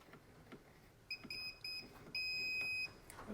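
A circuit breaker finder gives a series of high-pitched beeps, short and longer ones in an irregular pattern, faint against a quiet background hiss.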